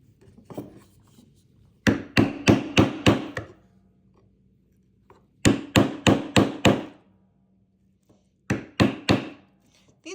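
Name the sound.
hammer tapping a chisel while carving a violin scroll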